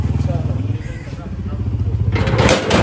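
A motorcycle engine runs steadily at close range, a low rumbling drone beneath people talking, with a sharper burst of noise near the end.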